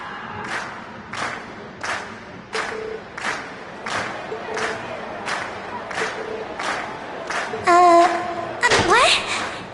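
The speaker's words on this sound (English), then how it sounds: "we've heard your cheers loud and clear" Rhythmic crowd chanting at a concert in the Trails of Cold Steel video game comes as a regular series of loud bursts, followed by a couple of brief, louder cheers at the end.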